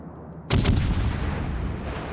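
Battleship main guns fire in World of Warships: after a quiet lead-in, a sharp, loud salvo of two or three near-simultaneous blasts hits and then rolls into a long, rumbling decay.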